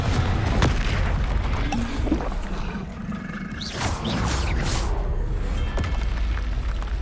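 Fiery Confringo spell blasts in the wizarding game Hogwarts Legacy, a dense run of booming, roaring bursts layered over constant battle din, loud and close with no pause.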